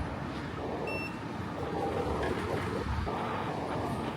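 Inside Serdika metro station in Sofia, a steady rumble of a train runs throughout, with two short electronic beeps from a ticket gate near the start. No one speaks.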